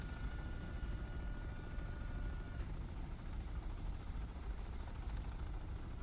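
Helicopter rotor drone in the submarine game Cold Waters, a steady low broadband rumble heard continuously and fairly loud, with a faint high tone cutting off partway through.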